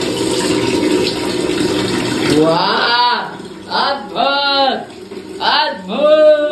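Water pours and fills a container with a steady rushing splash, then voices talk loudly over it in several bursts.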